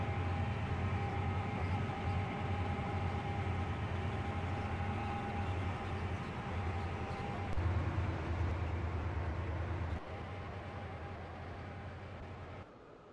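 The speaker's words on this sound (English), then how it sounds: "The train now approaching Platform 6 terminates here." A train rolls into a platform in the Roblox railway game Stepford County Railway, a steady low rumble and hum with a faint tone, loud and constant before easing down near the end.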